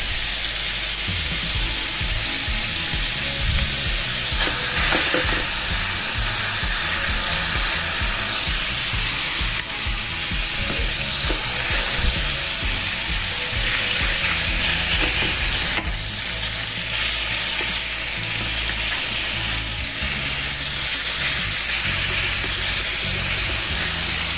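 Chicken sizzles and fries steadily in a pan for sweet soy chicken, with repeated stirring and scraping throughout; loud, close and continuous with bright hissing steam, no talking.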